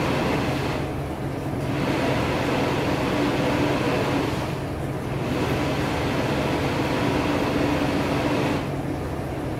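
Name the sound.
food processor pulsing peppers and onions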